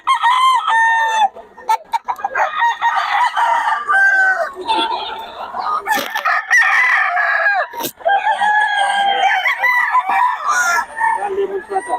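Gamefowl roosters crow loudly and repeatedly at close range, overlapping one another with clucks in between, while people talk faintly in the background.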